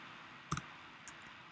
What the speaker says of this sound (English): if you hit the F key on your keyboard, notice what happens